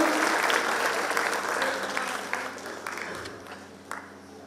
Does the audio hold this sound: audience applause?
yes